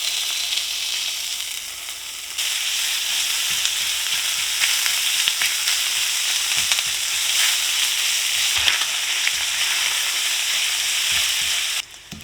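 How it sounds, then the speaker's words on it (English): Steady, dense sizzling of sausage browning in a hot pan, a continuous crackling hiss with occasional soft scrapes and pops, close and fairly loud. "I am going to start by browning up my sausage here."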